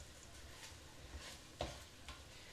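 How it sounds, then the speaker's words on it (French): Gumbo ingredients sizzling in a saucepan while being stirred, with a faint steady sizzle and a few soft scraping strokes, quiet and close with no voice. "c'est déjà en train de griller dans la casserole"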